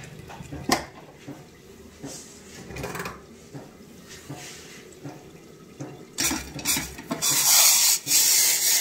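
Spiced chicken stirred in a cooking pot in a home kitchen: repeated metallic scrapes and clatters of a spoon against the pot, ending in a loud steady sizzling hiss, with no talking.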